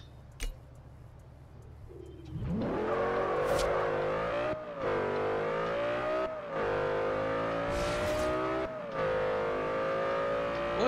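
An Audi revs and accelerates in the racing game Forza Horizon 2, the engine note rising and falling through several gear-like surges, loud and close with no talking.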